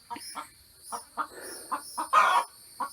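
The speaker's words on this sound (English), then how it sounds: "Don't mind the proud chicken." A chicken clucks several times in short, separate bursts near a duck house being built. One call near the end is louder and more drawn out. The calls are fairly close and there are no voices.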